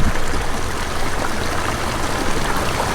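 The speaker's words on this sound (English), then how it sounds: "that's where that water is flowing out from the pond to right here" Steady rushing of water flowing out of a backyard pond, a constant loud wash of splashing and trickling with no break and no voices.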